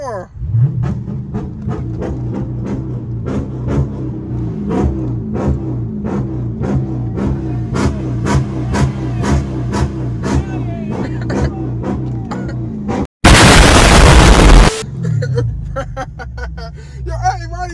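Dodge SRT 392 with a catless exhaust, idling with a rapid rhythmic lope and sharp pulses, close and loud, before a sudden harsh burst of wideband noise; voices talk over it.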